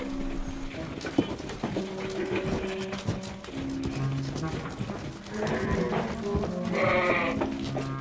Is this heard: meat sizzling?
no